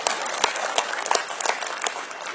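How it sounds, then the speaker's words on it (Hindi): An audience at a live talent show event claps steadily in dense, close applause, a continuous patter of many hands lasting a couple of seconds. "तालियां कमजोर कर दी दोस्तों आपने।"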